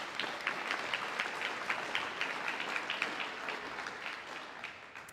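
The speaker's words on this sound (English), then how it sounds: "So a round of applause for such an amazing turnout." Audience applause at a university uncrewed aerial systems team showcase night, a steady dense patter of many hands clapping at a moderate distance, fairly faint and even, with no voices over it.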